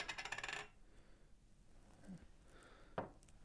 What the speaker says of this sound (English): Open up some ink.